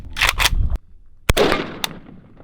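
Two sharp rifle gunshots fired with Hornady Black 7.62x39 red-tipped ammunition, loud and close, the first a pair of quick cracks followed by a gap, then a single report with a ringing decay and a fainter pop after.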